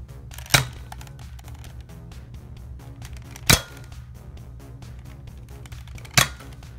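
A Nerf Falcon Fire Accustrike dart gun fires at a target three times, each a sharp, close, spaced snap standing clearly above a quiet room background.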